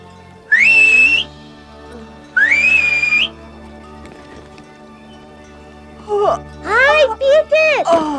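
A girl in the Alps whistles through her fingers: two long, loud rising shrill whistles, then a burst of quick chirpy upward-sweeping whistles near the end, with soft background between.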